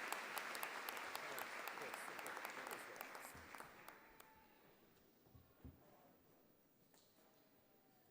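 Audience applause at a Clayton State University fall commencement ceremony, loud dense clapping for about four seconds that thins out and fades to scattered claps and faint room noise.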